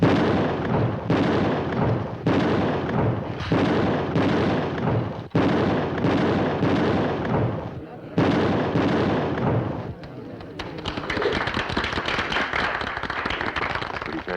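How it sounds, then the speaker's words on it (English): A rapid series of loud gunshots rings out during a shooting demonstration of bank security, with sharp reports in quick succession and a dense crackling burst near the end. "Pretty fair shooting, Mr. Jones."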